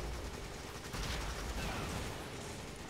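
Gunfire aimed at a rock in Resident Evil 5 during a giant bat boss fight, a dense run of muffled rapid shots and impacts, steady and fairly loud, with no talking.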